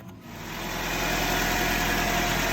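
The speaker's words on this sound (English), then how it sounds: "We got her running. Just let this engine warm up." A Suzuki Vitara engine idles steadily while warming up after an oil and flush change, a close, continuous low rumble that swells slightly in the first second, then holds even with no talking.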